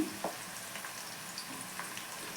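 Carrots tossed into frying egg rice set off a steady, close sizzle with faint crackles and a few soft stirring clicks, and no one speaks.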